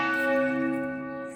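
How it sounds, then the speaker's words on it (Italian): Church bells ring in a steady, sustained toll, their rich humming overtones slowly fading in loudness, heard alone without speech. "Sentiamo ancora sfumare il suono delle campane"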